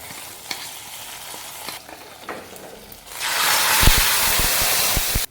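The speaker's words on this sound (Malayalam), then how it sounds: "ഇനി നല്ലതുപോലെ ഇളക്കി യോജിപ്പിക്കാം." A mustard-seed and shallot tempering is stirred into a coconut chicken curry, starting with soft scraping and light taps, then bursting into a loud, steady sizzle with a few sharp clunks as the spoon works the pot.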